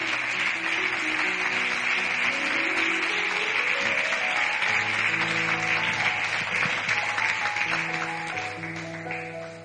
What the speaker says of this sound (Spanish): ¿Me puede dar un aplauso fuerte a Dios por eso?